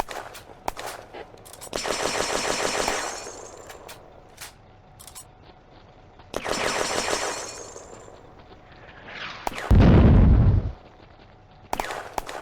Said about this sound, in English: Incoming German mortar fire.